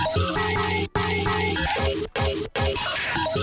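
A dense electronic music track pitched up half a semitone, with a steady bassline and chords, cut by brief silent gaps, its pitch sounding slightly off between notes.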